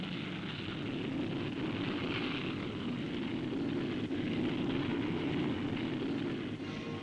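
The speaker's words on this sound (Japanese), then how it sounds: "F-86F 戦闘機、 T-33 ジェット練習機36機。 身を切るような冷たい風をついて次々に離陸。" F-86F fighter jets and T-33 jet trainers take off one after another in cold, biting wind, making a continuous distant roar of jet engines with a broad rushing hiss that holds steady throughout.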